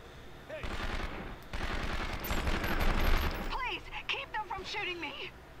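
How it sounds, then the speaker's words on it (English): Gunfire in the PlayStation 2 game 24: The Game, sustained rapid bursts of shooting filling the first half, then fading as a voice talks over the remaining game sounds. "she can't work while people are shooting her?"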